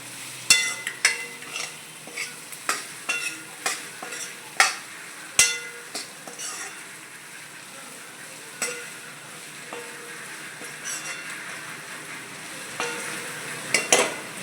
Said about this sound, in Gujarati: હવે આપણે નાખીશું કંટોલા પછી તેને હલાવી દેવાનું